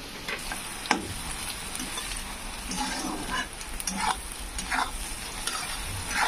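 Chopped onion sizzles and fries in a pan for a home-style chicken curry, a constant hiss with scraping, clinking strokes of a spoon as it is stirred, close and moderately loud with no talking.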